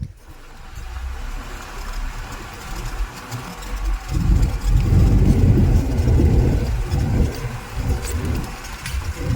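A car driving on a road while building off-grid, its engine a low steady rumble that swells louder partway through as the vehicle picks up speed, with road noise continuing to the end.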